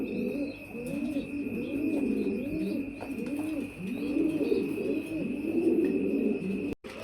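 Bombay satin beauty pigeons coo steadily at a pigeon sale, with soft, rolling, overlapping calls repeating throughout at close range over a faint constant hum.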